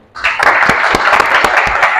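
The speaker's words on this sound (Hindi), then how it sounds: "एक दफा आप सबके लिए जो है ना, वो दिल खोल के तालियां होनी चाहिए" Loud applause from an audience breaks out suddenly and holds steady, dense clapping throughout.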